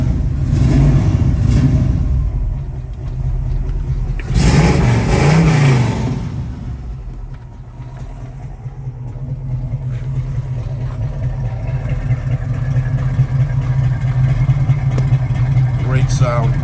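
A 1969 Chevrolet Camaro's engine starts and revs, with a loud throaty rumble and two sharp blips of the throttle before settling into a steady idle; a person talks over it.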